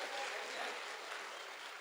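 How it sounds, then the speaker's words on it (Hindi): Crowd applause at a Hindi comedy poetry gathering, a steady wash of clapping held at an even, fairly distant and quiet level throughout. "एक बार तालियां बजा दीजिए जोरदार।"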